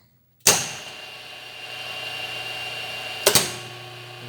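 Electric motor on a star-delta starter kicks on with a sharp onset, then settles into a steady hum and whine, and after a few seconds a second brief surge marks the changeover before the tone continues.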